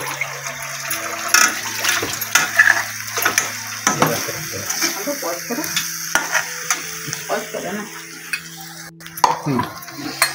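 Steady sizzling of washed small karandi shrimp frying in a pan on a wood-fired stove in a Konkan village, broken by repeated scraping and stirring clatter, close up, with a low hum underneath.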